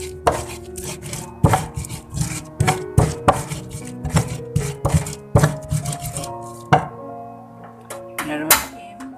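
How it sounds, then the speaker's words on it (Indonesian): Shallots, garlic and chili pounded with a mortar and pestle: a steady run of close, sharp thuds and grinding knocks, roughly one or two per second, with some ringing tones between strikes. "Bumbunya tinggal ngulek, bumbunya bawang merah, bawang putih, cabai aja"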